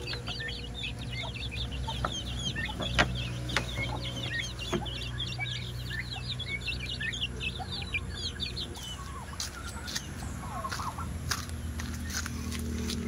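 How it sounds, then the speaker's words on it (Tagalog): Chickens clucking at a farm where turkeys are also kept, a busy run of repeated clucks and calls over steady background noise, with sharp taps and knocks scattered through. "Manok."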